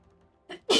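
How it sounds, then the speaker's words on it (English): A single sneeze from a streamer at a microphone, a short intake burst followed by a loud, sharp explosive release, close and alone with no talk. "I'm really gonna sneeze."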